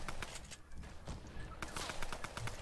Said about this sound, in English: You just hear gunfire.